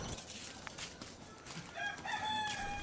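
A rooster crows once toward the end, a drawn-out call over steady background hiss in a village on the slopes of Mount Agung in Bali, moderately distant, with no talking.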